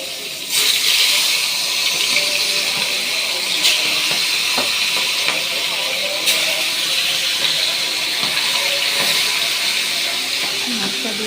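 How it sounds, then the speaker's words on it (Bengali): Fish fries in a pan with a steady, loud sizzling hiss and occasional crackles and pops, continuing unbroken throughout. "এদিকে আমি করছি মাছ ভাজি"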